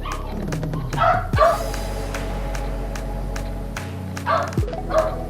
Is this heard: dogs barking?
yes